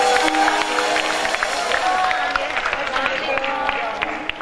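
An audience at a music night claps and cheers in a large crowd, a busy, fairly loud patter of many hands with scattered whoops and a voice over a sound system running beneath.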